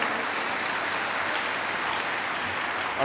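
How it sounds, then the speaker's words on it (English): Audience at a youth leadership assembly applauding steadily in a sustained wave of clapping that holds level throughout, with a brief swell right at the end. "Please put your hands together for him. Keep clapping till he gets here."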